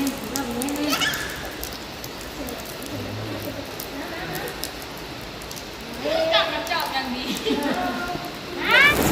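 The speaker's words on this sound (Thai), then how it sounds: "บรรยากาศอะเย็นเย็นฝนตก" Steady rain falls as a constant hiss outdoors, while people talk over it throughout and a few short chirps come through near the end.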